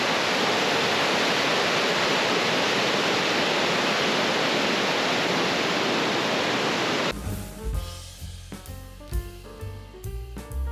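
Waterfall pouring down at Bridal Falls in Oregon, a loud, dense, steady rush for about seven seconds before it cuts to music.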